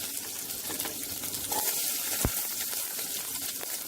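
Onion pieces sauté in a pan with curry leaves, green chilli and ginger for brinjal sambar, giving a steady, close sizzle and hiss with a few soft stirring scrapes.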